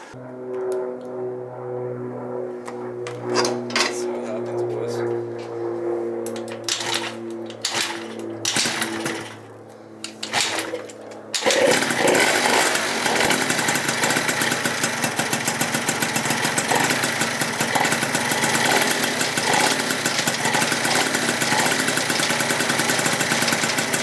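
A Yamaha Zuma 70cc scooter is kicked over with a few knocking strokes, then the small engine catches and runs, a loud steady buzzing idle that continues alone.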